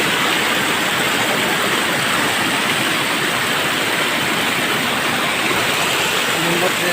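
A river waterfall roars in a constant, dense rush of water, loud and steady throughout with no break.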